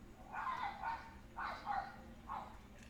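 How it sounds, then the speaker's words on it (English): Several dogs bark in short separate bursts, three or four yelping barks spaced apart at moderate distance over a low background hum. "I'm hearing dogs."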